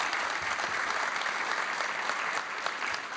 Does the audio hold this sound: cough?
no